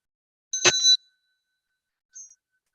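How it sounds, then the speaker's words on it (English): A single bright metallic strike of a small bell rings out clearly, followed moments later by a faint, brief second tone in otherwise silent surroundings. "This is my Tibetan bell."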